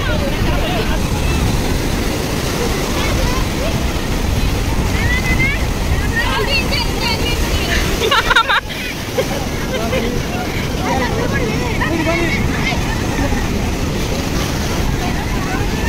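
Strong sea waves at Puri beach, a continuous roar of surf with heavy wind buffeting the microphone and people talking over it.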